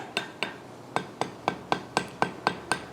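A hammer strikes hot iron at welding heat on an anvil while forging a pintle hinge, a steady run of about a dozen sharp, evenly spaced ringing taps heard close.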